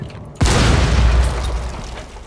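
A grenade detonates in Rainbow Six Siege with one loud, close, deep boom, preceded by a brief quiet moment. A heavy rumbling tail follows and fades slowly over the next two seconds.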